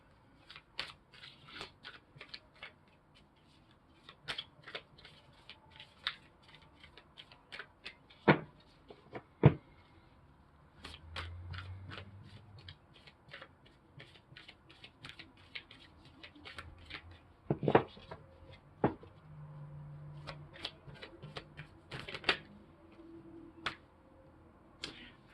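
Tarot cards being shuffled by hand, with repeated crisp snaps and riffles in irregular bursts, close up, with a few soft low thumps and no speech.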